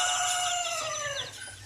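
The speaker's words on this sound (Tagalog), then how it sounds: "Yan mga kabrad yung ating mga bagong pisa ngayon." Chickens, including newly hatched chicks of a large breed, chirp and peep in a dense, continuous chorus of overlapping high calls close by, with no talking.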